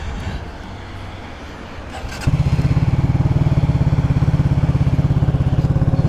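A Cougar Vitacci XMT 250 motorcycle engine cranks and catches, then settles into a loud, steady, even idle, its rapid firing pulses close by after a brief quieter lead-in.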